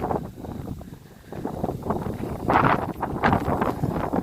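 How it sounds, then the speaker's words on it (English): Gusts of wind buffet an open, rocky mountain top, roaring and rumbling against the microphone in uneven surges that swell louder toward the end. "We're getting pretty good gust of wind."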